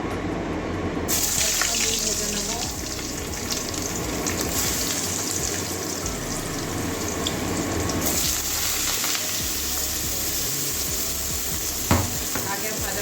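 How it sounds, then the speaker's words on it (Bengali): Pointed gourd and potato pieces sizzle in hot oil with a close, steady, crackling hiss that runs the whole time, and a brief utensil knock comes near the end; no one speaks. "তেল গরম হয়ে গেছে এবারে পটল আলুটা দিয়ে দেবো"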